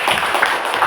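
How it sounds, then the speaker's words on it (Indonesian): Group 2 receives applause in a classroom: a short, dense burst of many hands clapping together, loud and continuous for about a second. "Ya, tepuk tangan kepada kelompok 2"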